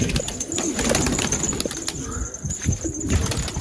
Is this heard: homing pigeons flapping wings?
yes